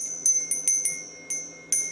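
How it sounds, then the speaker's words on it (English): A small altar bell is shaken in quick, bright, high-pitched rings, about half a dozen struck in close succession, clear and near with a short shimmering decay. "A bell is an air tool."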